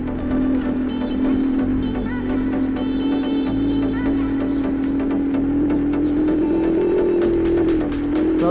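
An Inmotion V12 electric unicycle being ridden through a park gives off a steady, close whirring motor tone that rises slightly in pitch, with wind and road noise beneath it and no talk.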